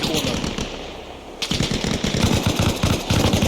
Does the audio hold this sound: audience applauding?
no